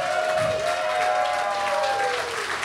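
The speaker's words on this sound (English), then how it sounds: "everybody please give a big round of applause to the Dawn of Patreon time jumper here" A live comedy-show audience in San Francisco breaks into loud, close applause, a thick burst of clapping with voices and a few whoops rising through it for nearly three seconds.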